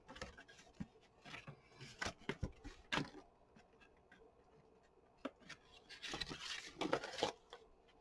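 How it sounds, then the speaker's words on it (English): Sharp scissors trim the edge of old paper ephemera for a collage envelope, quiet scattered snips and crisp rustles in short bursts, busier toward the end. "Use sharp scissors."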